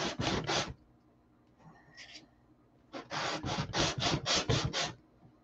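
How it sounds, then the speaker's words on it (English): A model P-47 canopy is sanded by hand, giving close, rhythmic rasping strokes in two bursts, three quick rubs, a pause with a faint scrape, then a run of about eight steady strokes. "Kind of got a lump right there, so we'll sand on her with this."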